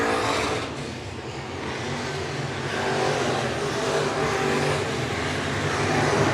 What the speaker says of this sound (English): As Fett dominating the back half of heat race number 3